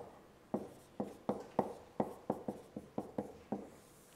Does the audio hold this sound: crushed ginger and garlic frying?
no